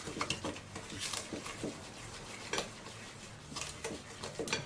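Light brown sugar and regular sugar are being mixed into cookie batter in a bowl, giving soft scraping and stirring with scattered clinks of a utensil against the bowl.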